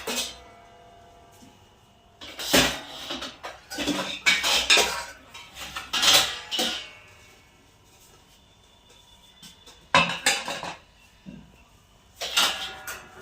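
Dishes and utensils are being washed by hand, with loud bursts of clattering steel plates and cutlery separated by quieter gaps of running water and handling.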